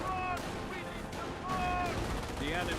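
Gunfire from a half-track shooting at a rifleman squad in the World War II strategy game Company of Heroes, rapid loud bursts under a commentator's voice with whistling tones.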